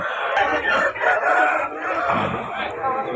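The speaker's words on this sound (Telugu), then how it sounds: "చాలా అంటే చాలా మంచిది కోడిపిల్ల" Roosters crow and chickens cluck continuously at a Sunday gamecock market in Vijayawada, a loud, dense crowd of poultry calls filling the whole stretch without pause.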